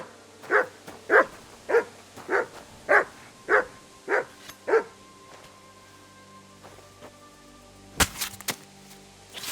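A dog named Mutt gives eight evenly spaced, moderately loud barks in a regular rhythm. Quiet follows, then a short sharp clatter near the end.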